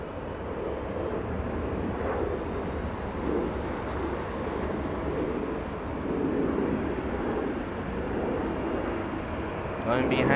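A plane comes in to land at Los Angeles International Airport, a steady broadband engine roar holding throughout and swelling slightly near the end, with people talking beneath it.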